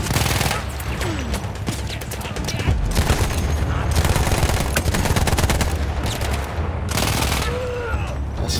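Submachine gun fire rings out in the video game Battlefield 1, with rapid bursts of shots cracking in dense runs and short pauses between them. Loud and close, with distant booms beneath.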